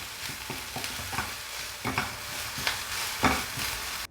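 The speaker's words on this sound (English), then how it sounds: "Keep turning the onions so that way they don't burn" Onions frying in hot oil in a pan are stirred, giving a continuous close sizzle broken by several sharp scraping strokes of a utensil at irregular intervals.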